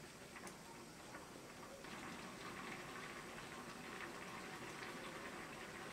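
Sri Lankan lentil dal curry boils in a pot, a faint, steady bubbling and popping simmer heard alone and close.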